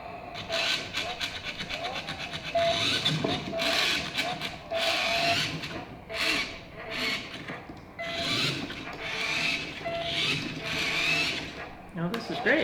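A JC 1807 RC snowmobile's small electric motor whirs in steady, close bursts that rise and fall in pulses, with people talking over it.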